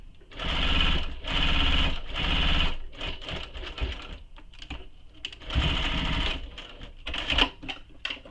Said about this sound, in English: So I've back stitched where I've started.